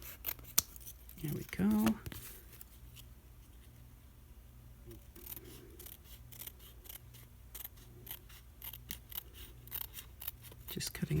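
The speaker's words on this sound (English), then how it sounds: "Just cutting out along the outside edge of those so they still show up." Scissors cut out paper pieces along their outside edge for a budget journal page, a long run of small soft snips and paper rustles close by, with a brief spoken remark early on.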